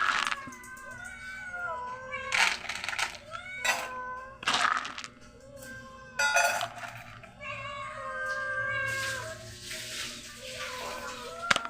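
Persistent high-pitched kitten meows repeat over and over, near and insistent, with soft handling noises and faint splashing underneath.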